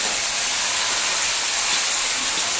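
Taro leaves hitting a hot pan with ginger paste give a steady, loud broadband sizzle and hiss that holds evenly throughout, with no talking.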